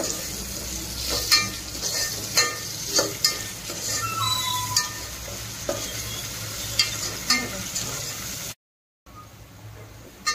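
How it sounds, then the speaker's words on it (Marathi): Ginger, garlic and chili paste fries with tomato in a pan, a steady sizzle broken by repeated clinks and scrapes of a spoon stirring, close and fairly quiet. "त्यात आपण आलं लसूण आणि मिरचीची पेस्ट केलेली टाकू. ती पण चांगली फ्राय करूया."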